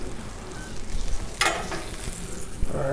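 Sausage patties and eggs sizzle steadily on a hot Blackstone griddle, with a brief sharp scrape partway through.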